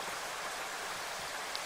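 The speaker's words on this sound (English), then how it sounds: "You can get some recordings from Splice that you like of rain." A rain recording from the Splice sample library: a dense, even hiss of steady rainfall with no gaps, loud and close, alone with no voices.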